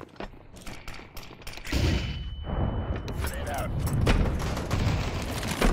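Gunfire in a competitive shooter game, a series of loud booming shots and mechanical clatter over continuous game noise, with a player talking throughout.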